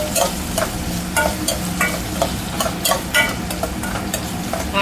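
Onion frying in oil with mustard seeds, cumin and curry leaves for a drumstick sambar tempering, a steady close sizzle with repeated scraping stirs of a spoon in the pan, no talking.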